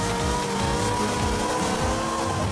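A car drifting in Forza Horizon 5 produces a steady engine roar, mixed with tire noise that holds loud and constant through the short stretch.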